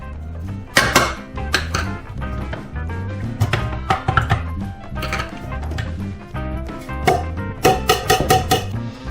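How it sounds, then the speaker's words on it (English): Cheetos dumped into a bowl for cookie baking, a series of rattling, crunchy clatters in irregular bursts, close and fairly loud, with no talk. "just start dumping these Cheetos into a bowl of its own"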